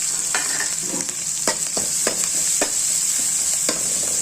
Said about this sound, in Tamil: நல்லா வதக்கிக்கோங்க ப்ரௌன் ஆகிற வரைக்கும்